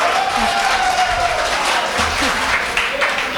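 An audience claps together at an Urdu poetry gathering, a Jashn-e-Ahmed Hashim event in Malegaon. The applause is a steady, dense wash that fills the whole stretch, with faint voices mixed in.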